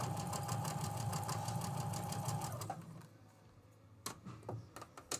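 A sewing machine runs fast and steady, stitching quilt pieces cut from Free Spirit fabric, then stops about halfway, leaving quiet handling noises and a few sharp clicks.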